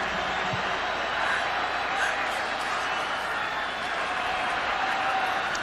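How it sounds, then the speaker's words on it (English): Stadium crowd at a 2003 Oklahoma at Alabama college football game, a steady dense roar of fans chanting Roll Tide, continuous and loud throughout with no single voice standing out. "They're still chanting "Roll Tide.""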